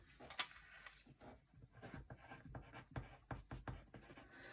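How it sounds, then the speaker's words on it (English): A pen scratches across paper by hand, quiet close strokes in irregular bursts with short pauses between words. "Let me write it on here."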